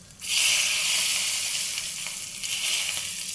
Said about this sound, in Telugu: ఇదిగోండి తాలింపు దీనిలో వేసేస్తున్నాను